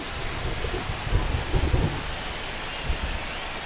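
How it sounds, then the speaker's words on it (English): Steady rain pours in a baseball game in MLB The Show 25, with low rumbles of thunder rolling underneath, a dense continuous wash with no voices. "This rain is not letting up."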